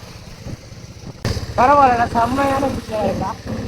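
A TVS Apache motorcycle cruises in fifth gear with a steady, low engine drone. A voice talks over the engine for the second half.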